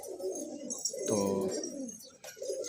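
Pet pigeons coo close by in a loft, soft throaty repeated calls rolling over each other, with a brief spoken word in another voice.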